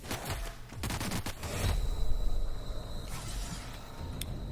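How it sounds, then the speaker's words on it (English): Gunfire in the video game The Outer Worlds: bursts of rapid shots crackle in the first couple of seconds, followed by a few scattered distant pops over a low background rumble. "This is just a dead end with gunfire in it."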